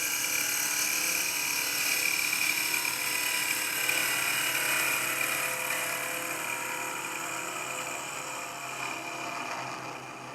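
A woodturning gouge rides its bevel across a spinning workpiece on a lathe, producing a continuous high, hissing cutting whine over a low motor hum, fairly quiet and steady throughout.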